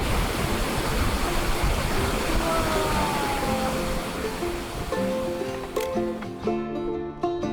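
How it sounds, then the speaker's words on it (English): A waterfall in Ubud, Bali roars in a dense, steady wash, loud and close, with some faint tonal sounds creeping in toward the end. "Can you feel the power of the waterfall?"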